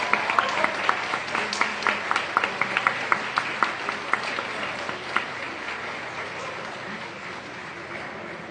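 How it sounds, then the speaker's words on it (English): An audience at a student elections results night applauds a new NUS representative. Close, lively clapping is loudest at the start and thins out gradually toward the end. "Please give a massive round of applause for your new NUS representative."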